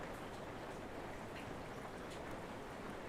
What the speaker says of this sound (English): it's raining cats and dogs outside. You can hear it on the roof.